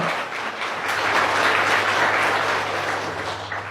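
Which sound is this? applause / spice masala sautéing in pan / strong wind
applause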